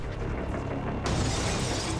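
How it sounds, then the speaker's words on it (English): Glass smashing in a driving video game: a loud burst of shattering at about the midpoint, with bright crashing debris continuing over a steady engine and road rumble. "I was enjoying smashing through the glass"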